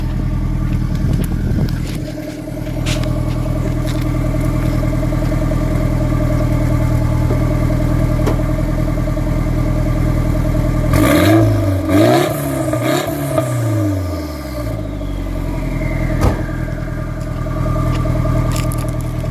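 A Nissan S14's engine idles loudly with a steady rumble, then is revved in a few sharp bursts through the exhaust before settling back.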